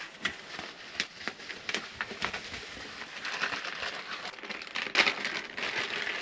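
Continuous crinkling and crumpling of bubble wrap packaging around a FOSSiBOT F3600 portable power station as it is handled and pulled open, with irregular soft pops and rustles, close up.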